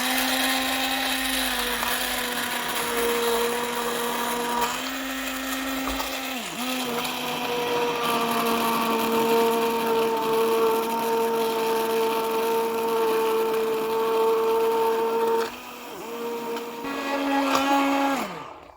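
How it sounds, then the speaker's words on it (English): A hand blender whirs steadily for a long stretch, its motor pitch dipping briefly now and then as it churns through thick nettle soup. "I'm just going to give it a whiz now with a hand blender"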